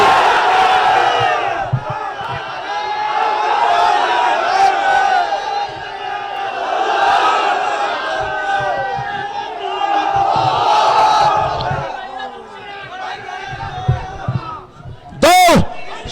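A large outdoor crowd at the annual Charmonai gathering chants the takbir in loud, rising unison waves, several swelling roars repeating over about fifteen seconds before fading, ending with a brief distorted burst.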